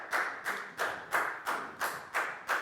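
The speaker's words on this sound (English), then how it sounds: "Give yourselves all a big round of applause." A short run of about seven evenly spaced claps from a classroom of students at a Year 4 science lesson, a slow rhythmic group clap, fairly quiet and close, with no talking over it.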